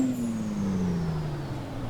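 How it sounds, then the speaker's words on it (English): A truck engine cranks and starts in American Truck Simulator, a steady low drone with a slowly falling pitch that runs continuously and fairly loud for the whole moment, no voices over it. "I sort of ended up starting the truck without putting the clutch in"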